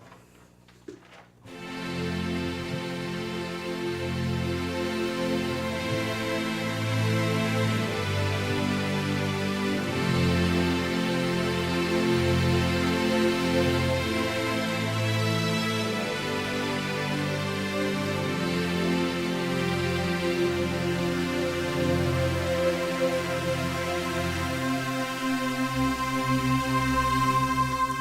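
A string-section patch on a Yamaha Montage keyboard plays alone, with sustained chords rising after a brief silent start and carrying on as a full, steady orchestral pad for nearly half a minute.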